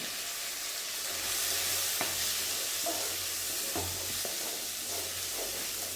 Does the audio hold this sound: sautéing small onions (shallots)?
yes